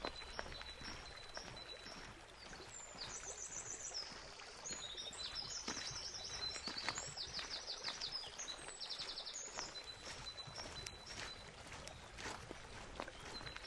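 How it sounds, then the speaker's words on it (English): Birds chirp and trill high and quick over a steady outdoor wash, with bright calls clustering in bursts in the middle, fairly faint overall. "Birds are loud as hell this time of year."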